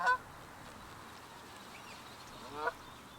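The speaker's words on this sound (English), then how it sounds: "There's so many geese around here at the moment" Two short honks from geese, one at the start and one near the end, fairly faint over quiet outdoor seaside ambience in Lancashire.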